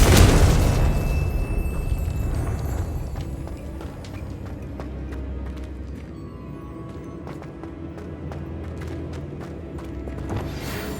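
A Confringo blasting spell bursts in Hogwarts Legacy, a loud explosion at the start that decays into a rumbling, crackling tail with scattered sharp impacts.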